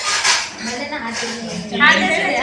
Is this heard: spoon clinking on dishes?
yes